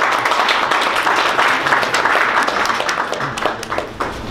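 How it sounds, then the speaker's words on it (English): Audience applause at a New York City February meetup with dLab, Emurgo and Cardano Foundation, a continuous crowd of clapping that holds steady and then gradually thins toward the end. "a round of applause for Nick."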